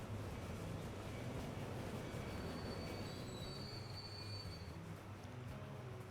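Freight train in Transport Fever 2 rumbles past with a steady low roar and rattling wagons, with a few thin wheel squeals rising briefly midway; no voices.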